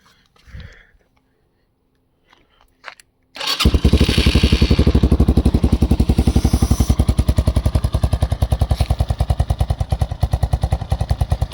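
A cold Apollo 250rx AGB-36 dirt bike with an upgraded carburetor and choke catches after a few faint tries, then idles loud and close with a fast, steady pulsing beat, a voice murmuring quietly just before it starts.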